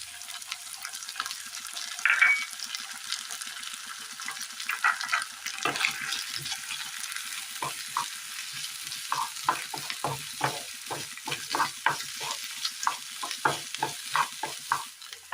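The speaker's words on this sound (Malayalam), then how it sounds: "ഇതിലേക്ക് നമ്മൾ ബീറ്റ് ചെയ്ത് വെച്ചിരിക്കുന്ന മുട്ട ചേർത്ത് കൊടുക്കാം" Beaten egg frying in a pan as part of a macaroni vermicelli recipe, a soft continuous sizzle with repeated scraping stirs of a utensil that grow more frequent toward the end, no voices.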